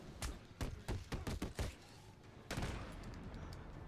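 Gunfire in Batman: Arkham City: a burst of about eight sharp, close shots in quick irregular succession, then one louder blast that trails into a long rumbling decay, with no talk over it.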